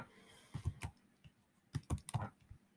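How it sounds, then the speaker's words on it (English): Quiet computer keyboard typing in two short bursts of quick clicky keystrokes, separated by a brief pause, heard close and alone. "I can't type to save my life"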